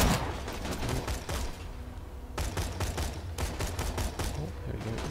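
Enemy gunfire in Borderlands 2: rapid bursts of automatic shots, loud and close, with a brief lull before another volley of sharp repeated cracks.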